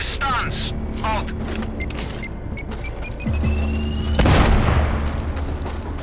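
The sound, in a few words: explosion in video game Sniper Ghost Warrior Contracts 2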